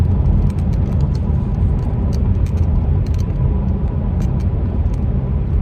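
A car drives along a very rough, bumpy road. A loud, constant rumble of engine and tyres fills the whole stretch, with rattling jolts throughout.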